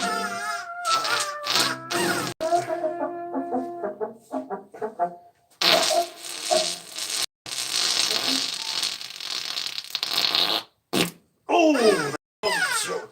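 Repeated buzzing, sputtering fart noises in short and longer bursts, loud and close, alternating with gaps and brief raspy stretches, with voices talking in between.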